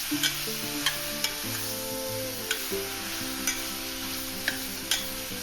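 Mutton sautéing in a pan for mutton kuzhambu, a steady bright sizzle broken by regular clicks of a spoon stirring, with soft background music underneath.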